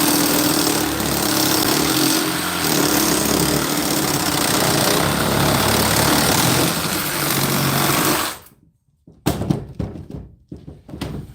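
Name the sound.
reciprocating saw cutting copper and brass pipe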